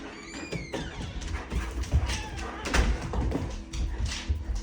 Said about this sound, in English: Dogs are outside. They came in very excited, playing